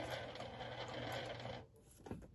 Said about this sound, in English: we're going to back stitch in the seam allowance area